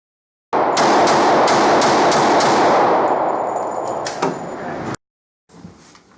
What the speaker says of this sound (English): Freedom ring with the shotgun blast!